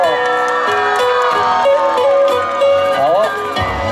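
An outdoor school evening concert crowd screams and cheers loudly and continuously while a singer's amplified voice calls out over the noise.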